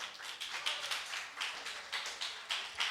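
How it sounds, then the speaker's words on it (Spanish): Audience applause for Luisito at a gathering, a group clapping steadily in an irregular patter, moderately quiet and without voices. "Un aplauso para Luisito, por favor."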